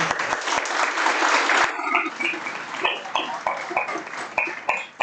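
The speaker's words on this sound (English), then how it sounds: "Huge round of applause to you guys." At a startup demo day, an audience gives the students a round of applause: thick crowd clapping that thins after a couple of seconds into scattered, sparser claps with occasional sharp single hits.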